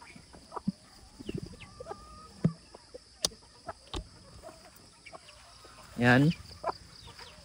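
Hens on a farm give scattered soft clucks and short calls around the yard, one louder squawking burst near the end, while a person speaks briefly nearby.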